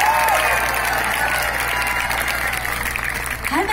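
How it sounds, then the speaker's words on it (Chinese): A large concert audience of about a thousand people applauds, a loud, dense, sustained clapping that holds steady throughout. "1000人的鼓励跟掌声到底有多大声？"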